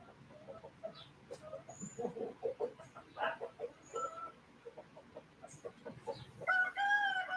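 Hens cluck and squawk in a busy, overlapping run of calls, with a rooster crowing loudly near the end, all close by on a farm.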